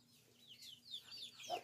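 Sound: rooster crowing

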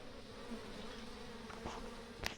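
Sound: worker bees flying around while moving a wild hive

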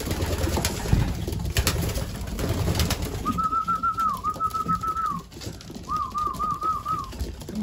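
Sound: racing pigeons cooing

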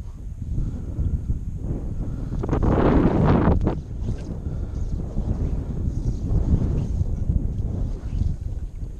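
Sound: strong wind blowing over water

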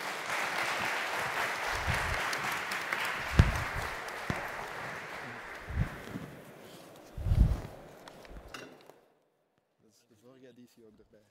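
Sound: audience applause for the panel members

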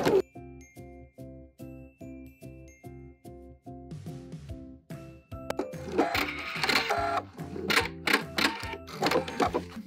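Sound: sewing machine backstitching an apron pocket

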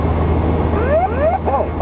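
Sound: aircraft ground proximity warning system alert

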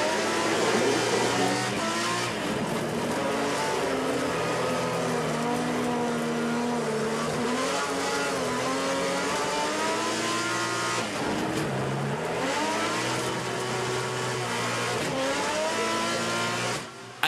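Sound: Trophée Andros ice race car onboard during a qualifying lap

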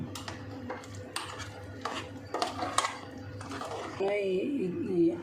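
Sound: stirring spiced greens together in a pan

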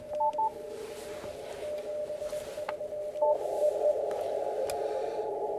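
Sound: CW Morse code radio signal through 600 Hz filter

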